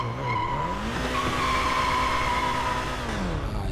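Go-kart in GTA V, its engine rising and falling in pitch while tires squeal and skid loudly and continuously through a turn.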